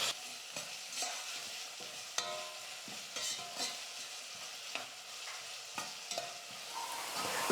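Onions, curry leaves and asafoetida fry in oil for drumstick sambar, a quiet steady sizzle broken by repeated scraping stirs of a spoon against the pan.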